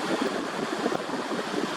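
Wind gusts beneath a seaside pier mix with the wash of surf, a continuous rushing broadband roar with slight buffeting on the microphone, fairly loud and close.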